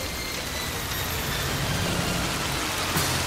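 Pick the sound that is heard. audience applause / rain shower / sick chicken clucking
rain shower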